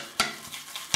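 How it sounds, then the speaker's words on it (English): A wet shaving brush whips Lime Zest shaving cream into lather in a plastic bowl, giving soft swishing with three sharp clacks against the bowl's side, close up and without speech. "I think I'll make the lather in the bowl."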